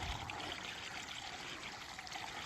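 Water from an enlarged farm pond trickles and streams over its overflowing bank, a faint, continuous babbling flow heard at a distance without voices.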